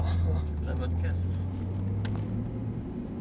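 An Audi R8 with 420 hp runs on a race circuit at Fontenay-le-Comte, its engine a loud, deep, steady drone that slowly eases, with people talking over it.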